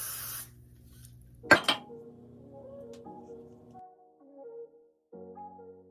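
A quick pair of sharp hissing spray bursts from a spray bottle onto a lace wig, close by, followed by quiet low rustling and faint background hum.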